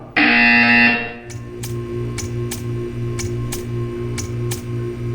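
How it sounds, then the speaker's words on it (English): A loud electronic buzzer in the video game Portal 2 sounds once for about a second, followed by a steady low hum with a regular series of sharp ticking clicks. "You will hear a buzzer."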